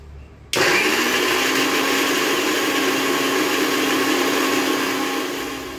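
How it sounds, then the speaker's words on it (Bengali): A potato with a little water is ground into a paste; an electric motor kicks on suddenly and runs with a loud, steady whirring drone that tapers slightly at the end. "চলো গ্রেট করে নিই।"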